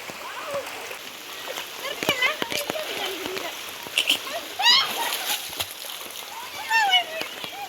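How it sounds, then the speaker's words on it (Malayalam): Footsteps slosh and splash through mud and floodwater in heavy rain, coming as irregular close splashes over a steady wash of rain, with a voice talking in between. "ചളിയിലൂടെ നടന്ന് പോവുകയാണ്"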